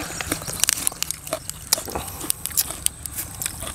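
Someone eats pork with crisp fresh vegetables close to the mic, an irregular run of moist bites and crunchy chewing clicks with no talk.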